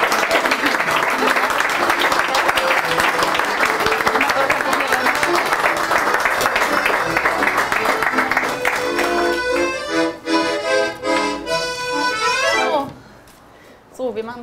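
Audience applause welcoming a radio host and Russia expert to the stage at a cultural evening, loud and dense for about eight seconds while music plays beneath, then thinning as the music continues and fades.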